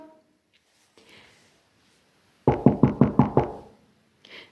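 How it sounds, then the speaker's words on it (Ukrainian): Knocking on a door, six sharp raps in an even quick rhythm, close and fairly loud, standing alone against near silence. "Хтось стукає в двері."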